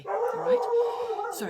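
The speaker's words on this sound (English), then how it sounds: "excuse the dogs barking" Several dogs bark and howl close by in a short, loud burst, their yips overlapping a person talking.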